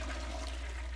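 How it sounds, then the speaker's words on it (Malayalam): Toilet flush inside a bathroom in the horror game Mr Meat 2, a steady rushing gush of water that fills the whole second without a break, with no voices over it. "കക്കൂസ് ഫ്ലഷ് അടിച്ചു"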